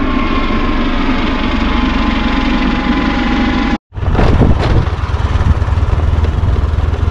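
A scooter engine runs near Tehri Lake, humming steadily and loudly, then cuts out for a split second before returning with a rougher, throatier roar close by.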